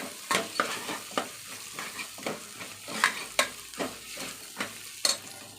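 Chopped carrot, beans and beetroot being stirred and fried in a pan for vegetable pulao, with a steady sizzle broken by repeated sharp scraping strokes of a spoon at a quick, uneven rhythm, close and fairly loud.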